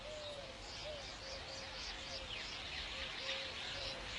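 A bird coos repeatedly in a natural setting, soft low calls recurring at a steady rhythm over a constant bed of background hiss and ambient noise.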